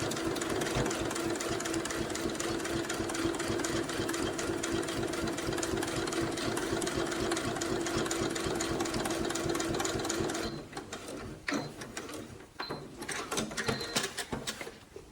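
A sewing machine stitches a zipper in a fast, continuous, even run for about ten seconds, then stops, followed by a few faint handling clicks and rustles of fabric.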